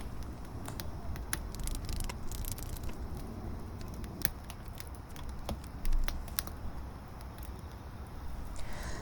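Tarot cards being drawn and shuffled by hand, a steady run of soft papery taps and riffles with scattered sharper clicks, fairly close and continuous under a low background hum, with no talking.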